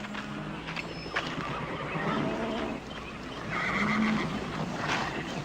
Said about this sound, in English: You'll need a horse.